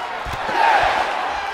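A wrestling arena crowd in WWE 2K19 roars in a steady broad wash of cheering at moderate distance, with a few thumps from the ring underneath.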